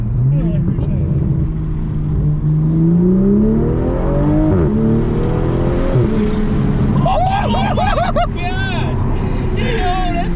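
A loud 2021 Toyota A90 Supra with an MST intake drones and revs up and down, exhaust roaring, with voices talking over it and a brief higher whining burst of compressor surge later on.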